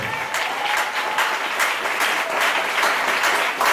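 A church congregation applauds the Lord for the prophet, a steady burst of clapping from many hands filling a few seconds, without any talk.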